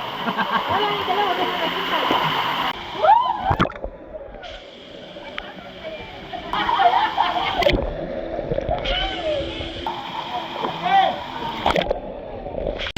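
Steady rushing water from Antong Falls with scattered splashes as people swim in the cold water, heard beneath people talking close by.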